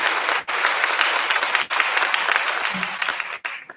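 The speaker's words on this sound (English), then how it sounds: "Round of applause for the board." A graduation audience applauds the school board with a dense, loud burst of crowd clapping that runs throughout, dipping briefly a few times and easing off at the very end.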